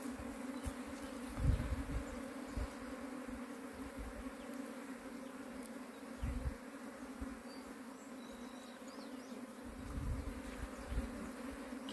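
Apis honey bees swarm around a hive being captured and rescued, a steady dense buzzing hum with occasional closer passes and low thumps, fairly quiet and without voices.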